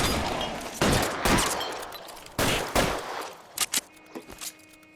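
Gunfire in a bank shootout in the video game L.A. Noire: several loud, close bursts of shots with ringing tails, then a few quicker scattered pops fading toward the end, no talking.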